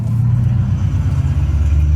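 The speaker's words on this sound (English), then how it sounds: "there's a freaking Mustang coming," A Ford Mustang rolls past nearby with a steady, low engine rumble that holds evenly throughout, heard alone without talk.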